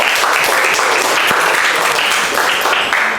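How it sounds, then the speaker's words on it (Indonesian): A class of schoolchildren claps loudly in a dense, continuous burst of applause lasting a few seconds, filling the room with steady, unbroken handclaps. "Oke, tepuk tangan dulu dong."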